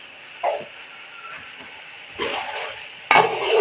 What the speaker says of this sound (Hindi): और इसकी अच्छी तरह से बुनाई करेंगे।